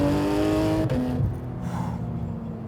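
A modified Porsche 911 GT3 RS of the 991.2 generation revs loudly up close with a high, tonal engine wail, then drops off sharply and settles into a lower rumble, with no talking.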